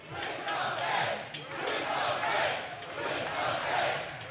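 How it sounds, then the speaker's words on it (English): Wrestling arena crowd in Tampa roaring and chanting during a tag-team match, a dense wash of cheering voices with rising and falling swells and a few sharp thuds from the ring. "The crowd here in Tampa wants it"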